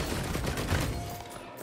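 Turrets fire in the video game Risk of Rain 2, a dense rattling burst of rapid shots that fades slightly toward the end.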